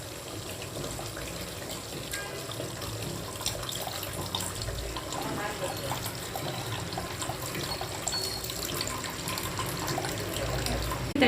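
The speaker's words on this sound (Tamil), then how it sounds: "தண்ணியும் கரைச்சி ஊற்றியாச்சு." Chilli powder stirred into water pours into a pan of fish curry, a steady, close liquid rush and sizzle that holds evenly throughout with no speech.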